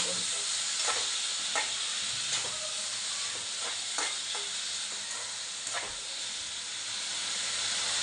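Onions, tomato and spices fry in a pan on low gas, a constant soft sizzle and hiss broken by several scraping stirs of a spoon, close and quiet with no talking.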